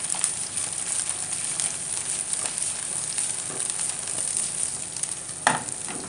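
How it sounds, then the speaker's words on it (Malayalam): Chopped brinjal (eggplant) frying in a pan, a dense, even hiss of sizzling oil with soft stirring scrapes and one sharper knock near the end, close and steady throughout. "ഇതിലേക്ക് നമ്മൾ അരിഞ്ഞു വെച്ചിരിക്കുന്ന വഴുതനങ്ങ ചേർത്ത് കൊടുക്കുക"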